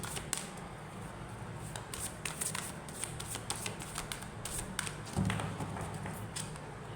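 Tarot cards are handled and shuffled up close, producing a dense run of quick papery flicks and soft taps at a steady moderate level, with a faint low hum underneath and no talking.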